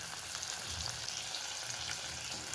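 Spices, small shallots and tomato fry in hot oil for a chicken gravy, a steady close crackling sizzle with no talk over it.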